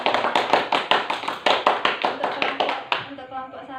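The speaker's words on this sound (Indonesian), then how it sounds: "Mari kita tepuk tangan untuk kelancaran berdiskusi hari ini." Classroom applause: a group of students clapping their hands together in a steady burst of overlapping claps that rises and then tapers off at the end, fairly close and loud.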